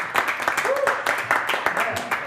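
A round of applause from an audience at a community creative event in Chilliwack, brisk clapping close by that fills the moment while a voice briefly rises above it.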